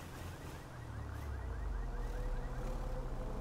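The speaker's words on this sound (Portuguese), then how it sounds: "Alarme de carro." A car alarm sounds in the video game GTA 5, a repeating electronic warble with rising sweeps that grows louder and steadier over a low engine-like rumble.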